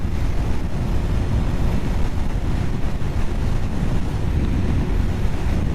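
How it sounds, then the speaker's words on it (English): Steady, heavy wind roars and buffets against the microphone, a constant low rumble with no pauses and no voices. "I can only feel the wind on my chest"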